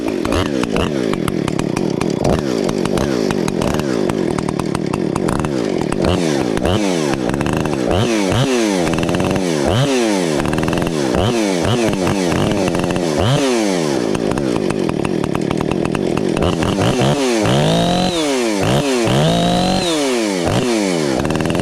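A gasoline chainsaw runs close and loud. The engine is revved repeatedly in rising and falling surges between rougher idling stretches.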